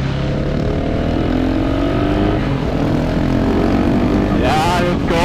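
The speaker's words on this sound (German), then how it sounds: "Ah, butterweich dein Motorrad." A Husqvarna 701 Supermoto motorcycle's single-cylinder engine drones steadily close by, then pulls away as revs climb near the end, with a voice faintly underneath.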